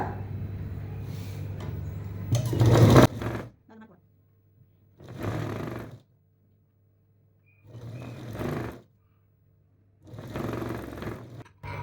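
A sewing machine stitches the side seam of a princess-cut blouse in several short runs separated by pauses, a steady mechanical whir rising and stopping each time, close and fairly clear.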